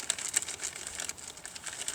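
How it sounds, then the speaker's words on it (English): A plastic bag crinkles up close as it is wrapped around a deer feeder holder, faint irregular crackling rustles over two seconds with no voices. "I am going to put it in a plastic bag to seal it up."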